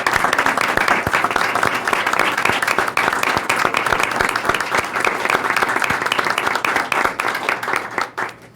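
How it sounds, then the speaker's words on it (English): Loud, close applause at a board of education tenure reception honors a retiring staff member named Andrea, with many hands clapping in a busy, crackling roll with individual sharp claps standing out, holding strong for several seconds before dying away. "I would ask that you all give Andrea a round of applause"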